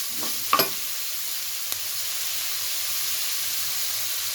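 Onion and vegetables frying in a pan for chicken egg fried rice, a steady close hiss and sizzle, with a brief clatter from stirring near the start.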